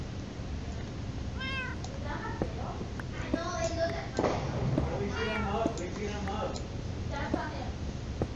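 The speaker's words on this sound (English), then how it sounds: "Kitties." Cats in the Minecraft video game meow repeatedly, several short, clear mewing calls spread across the clip over a constant low background hum.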